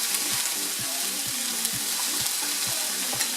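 Fish tofu stir-frying over high heat, a dense steady sizzle with rapid repeated scraping strokes of a spatula keeping the pieces moving, close and loud throughout.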